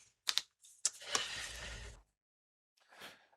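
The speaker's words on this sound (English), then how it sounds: "Just use the keyboard." Typing on a computer keyboard: a few quick clicks, then a brief dense run of keystrokes, a pause and one last short burst, close and fairly quiet.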